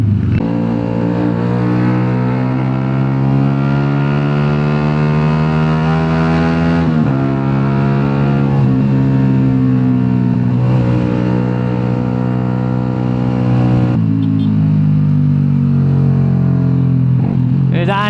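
New Gen underbone motorcycles ride together on a night stroll through Valenzuela. Their engines drone steadily and loudly throughout, with shifting pitch as they accelerate and ease off.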